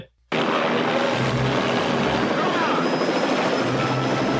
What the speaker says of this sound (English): You've got the helicopter hovering down just like that